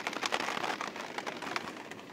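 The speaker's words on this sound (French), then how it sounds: "Bah il pleut." Rain patters steadily on a surface, a soft, dense hiss of drops with no talking.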